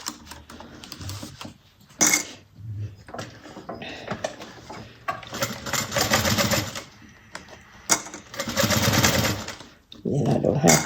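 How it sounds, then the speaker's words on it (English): A home sewing machine top stitches along the raw edge of fabric in several bursts of rapid, close mechanical clatter, separated by brief pauses and quieter handling sounds. "I'm going to top stitch starting with the raw edge"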